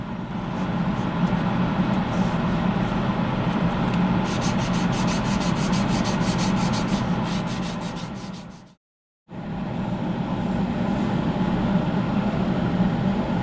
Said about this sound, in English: I'm sanded up through 400.